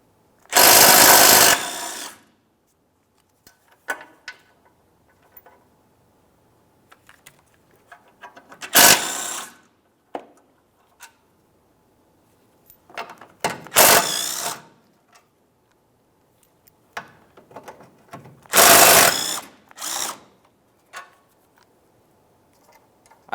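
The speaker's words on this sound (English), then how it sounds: "Let's start by removing the Torx bit screws. To remove these, we're going to use a 16mm socket" A socket wrench with a 16mm socket ratchets Torx bit screws out of the bumper on a 2011-2018 Volkswagen Jetta, in several loud bursts of rapid clicking separated by quiet pauses and small taps.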